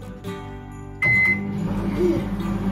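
A kitchen microwave oven gives a short electronic beep as its buttons are pressed, then starts up with a steady loud hum and whirr that carries on to the end.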